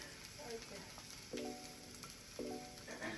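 Sausage left undisturbed to brown in a pan for biscuits and sausage gravy, giving a steady, close crackling sizzle with faint utensil taps, no talking.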